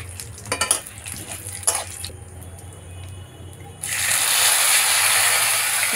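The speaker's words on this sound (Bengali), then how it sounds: "টমেটো কুচি দেওয়ার পরে একটু নাড়াচাড়া করে" Chopped tomatoes are stirred in a pan with hing, cinnamon and cloves: scraping and clinking at first, then a steady bright sizzle takes over about halfway through and holds, with no talk.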